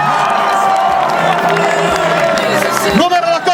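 A crowd at a hockey championship celebration cheers, whoops and claps continuously, loud and full, with a voice over a loudspeaker cutting through near the end.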